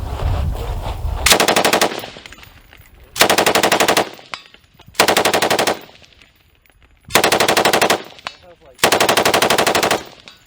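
A machine gun fires in five long sustained bursts separated by short pauses, loud and close, at a special weapons training range.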